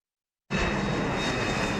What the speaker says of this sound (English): The planes are still flying